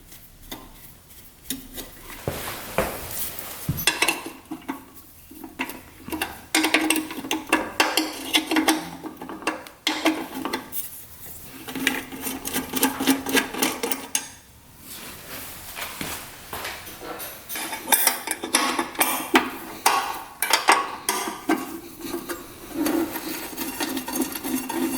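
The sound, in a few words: removing old hose clamp from motorcycle gas line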